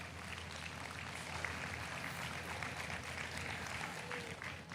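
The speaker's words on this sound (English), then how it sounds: "If we could please get a round of applause for all the exhibitors in the ring" Spectators applaud the exhibitors in a market broiler show ring, a steady wash of clapping heard at some distance, fairly faint and sustained.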